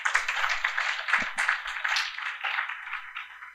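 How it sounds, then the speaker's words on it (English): A keynote audience at an inclusion-focused conference claps together, a dense, steady patter of many hands that holds at an even level, with no voices over it. "I thought we'll clap"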